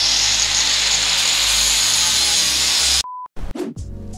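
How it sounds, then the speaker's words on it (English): An angle grinder smooths weld beads on the downpipe of a turbocharged VW Bug, a loud continuous high-pitched hiss and whine up close for three seconds before cutting off, followed by brief clatter. "so I'm gonna hit it with the grinder"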